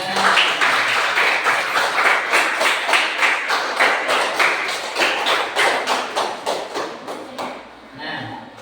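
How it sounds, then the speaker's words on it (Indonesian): A classroom of students gives a round of applause for two presenting groups. The clapping is loud, close and rhythmic, with strong regular beats that thin out and fade toward the end. "Kita beri aplaus semuanya untuk kedua kelompok."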